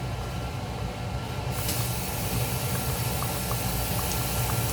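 Water goes into a pan of pork dongodongo as it cooks, raising a loud, continuous hissing boil that swells a little after the pour and stays steady and close.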